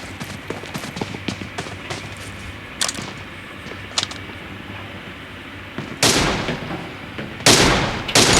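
Video game gunfire from the M24 sniper rifle, sharp broadband cracks scattered across the scene with two louder close bursts near the end over a steady background bed.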